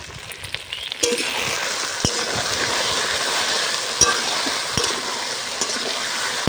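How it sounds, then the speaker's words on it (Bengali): Potatoes frying with chili paste in a pan for a village-style dish: a continuous loud hissing sizzle, close by, punctuated by occasional sharp taps from stirring. "আলু ভেজে নেবো ভালো করে কষিয়ে নেবো তার সঙ্গে লঙ্কা বাটাটাও কষে দেবো"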